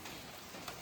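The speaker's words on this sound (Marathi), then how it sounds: "पाऊस चालू आहे थोडा, बघू शकता." Light rain falls steadily on a road during a monsoon car trip in Maharashtra, a soft even patter with no talking.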